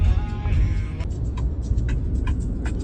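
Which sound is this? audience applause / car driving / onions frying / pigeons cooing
car driving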